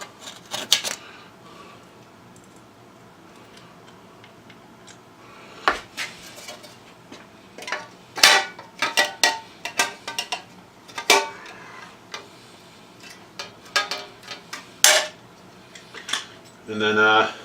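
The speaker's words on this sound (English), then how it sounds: "we'll use my handy dandy rivet gun here. Harbor Freight" Harbor Freight rivet gun setting rivets on a custom switch panel, a series of sharp metallic clicks and snaps in irregular bursts, with someone talking at times in between.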